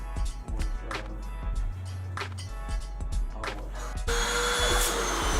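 A vacuum cleaner with a short hose drones steadily while a studio kitchen is cleaned, a continuous close whine with scraping and bumping from the nozzle, growing louder and brighter near the end.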